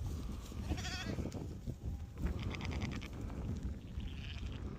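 Sheep and lambs bleating outdoors, several calls close and far at irregular moments over a soft breezy background.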